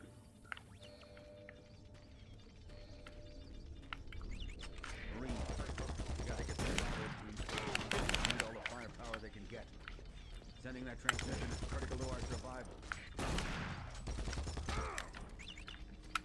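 Bursts of gunfire and clanking mechanical noise from combat in Doom 3, fairly faint and scattered in clustered volleys under a busy game mix.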